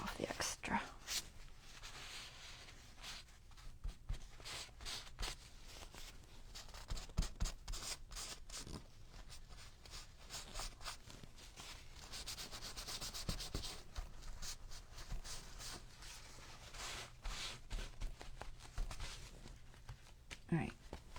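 Steady rubbing and wiping of excess glue off a junk journal page with a glue wipe, soft repeated scuffing strokes close by, broken by short sharper rubs, with quiet talk over it.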